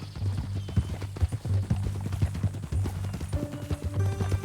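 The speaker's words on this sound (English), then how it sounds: "That a new horse?" Horse hooves clop steadily and close in the Red Dead Redemption 2 video game, a loud repeating gait that runs through the whole stretch, with a faint whinny-like tone near the end.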